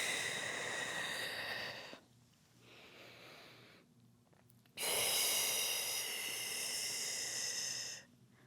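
Long, breathy exhales during Pilates roll-ups, two soft hissing breaths heard close with a quieter breath between them, no talking over them.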